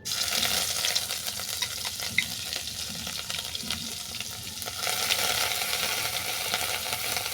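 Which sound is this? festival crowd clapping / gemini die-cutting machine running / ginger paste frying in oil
ginger paste frying in oil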